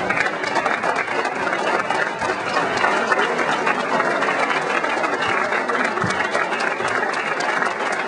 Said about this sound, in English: Can you just rise and give these two young people a round of applause?